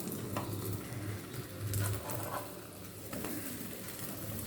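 A bread omelette sizzles steadily in a hot pan, the frying hiss running throughout, while stirring and scraping of a utensil against the pan surface sound in short bursts.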